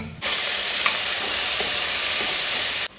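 Chicken tipped into a pan of golden frying onions bursts into a loud, steady sizzle and hiss that holds for a few seconds before cutting off abruptly.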